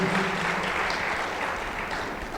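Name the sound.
congregation applauding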